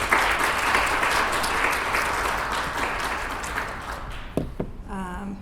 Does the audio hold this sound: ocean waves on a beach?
no